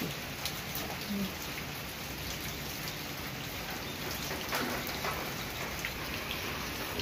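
Heavy monsoon rain pours steadily in Rourkela, India, making a dense, even patter on surfaces with scattered nearby drips and no break throughout.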